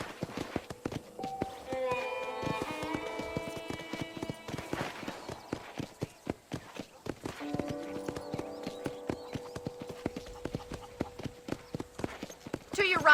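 Horse hooves clip-clop in steady, near rhythm through the whole stretch of Red Dead Redemption gameplay, with bright musical tones ringing over them and a voice speaking at times.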